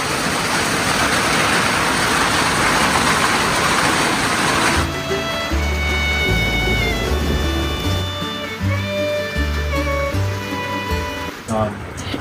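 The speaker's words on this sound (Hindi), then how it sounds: "और इतने तेज ओले गिर रहे हैं इस पर" Heavy hail pounds onto a net over an outdoor area, a dense, loud, continuous hiss and patter that eases after a few seconds into a rougher, uneven clatter.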